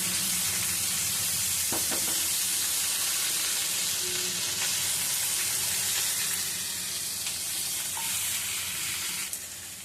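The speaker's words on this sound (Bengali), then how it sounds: "কেটে রাখা বেগুন, আর দিয়ে দিচ্ছি ঝিঙে। সব একসাথেই মিশিয়ে নিচ্ছি।" Eggplant, ridge gourd and pointed gourd sizzle steadily in a hot pan for a veg curry, with a few sharp scrapes of stirring near the start and a constant frying hiss throughout, no voices.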